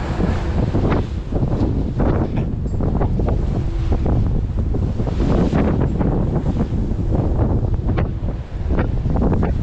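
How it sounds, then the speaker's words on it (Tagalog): Strong wind at sea roars and buffets the microphone continuously, loud and close, with rushing water beneath it and no voices. "Napakalakas ng hangin"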